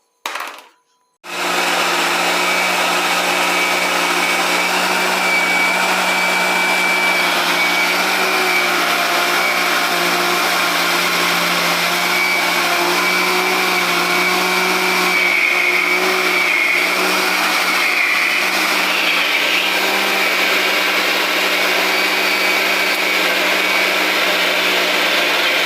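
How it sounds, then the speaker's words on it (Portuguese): A loud, continuous motorized whir of a blender mixing bread dough ingredients runs for over twenty seconds after a brief start, its pitch wavering slightly as it mixes. "a gente vai lá e vai bater os ingredientes do liquidificador"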